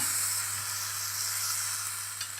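Cayenne pepper tossed in a hot pan with browned beef cheeks, a soft steady hiss of sizzling oil with a faint stirring scrape near the end, close and quiet with no speech.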